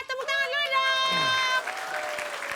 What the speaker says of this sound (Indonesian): Baiklah, tepuk tangan dulu dong.